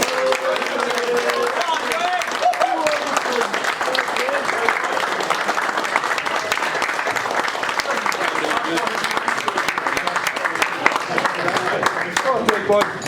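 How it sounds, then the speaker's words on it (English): At a football club's season awards night, a crowd cheers and applauds in a continuous loud roar of clapping and whooping that runs unbroken from start to finish, with voices mixed into the noise. "biggest cheer you can muster, boys, please"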